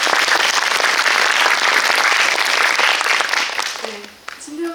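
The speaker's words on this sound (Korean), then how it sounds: "박수 한번 부탁드리겠습니다" Dense, loud applause from a theater audience at a special guest-visit screening of Drive My Car with Ryusuke Hamaguchi, continuous for several seconds before tapering off, with a voice briefly heard as it fades.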